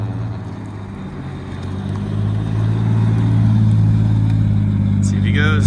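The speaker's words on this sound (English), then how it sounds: "Come on, drift taxi. Come around the corner." A drift taxi car at a Japanese Matsuri drifting event, its engine a steady low drone that swells and grows louder as the car approaches, with crowd chatter in the background.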